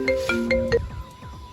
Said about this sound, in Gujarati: બાનો ફોન આવ્યો